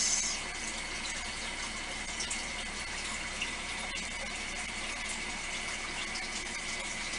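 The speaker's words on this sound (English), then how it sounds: "Pour the rest of this." Liquid blue resin being poured into a mold for a glittery craft piece, a steady close gushing trickle that runs continuously without a break.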